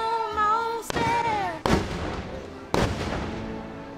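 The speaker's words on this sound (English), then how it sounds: "We're in the queue for Thunder Mountain. And also watching fireworks at the same time." Fireworks at a Disney park seen from the Thunder Mountain queue, three loud booming bursts about a second apart with crackling tails, over a backdrop of park music.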